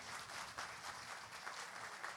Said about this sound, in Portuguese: Recebam uma salva de palmas do nosso público aqui presente